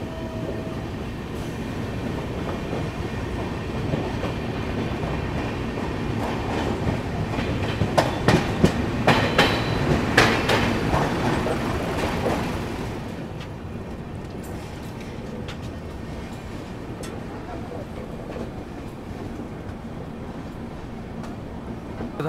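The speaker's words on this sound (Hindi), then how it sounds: "दोस्तों ट्रेन अपनी जो है बक्सर अराइव कर रही है।" The 20801 Magadh Express pulls into Buxar station, running late, with a steady rumble and rhythmic clickety-clack of wheels over rail joints. A flurry of sharper clanks builds midway before the noise settles into a quieter, even roll.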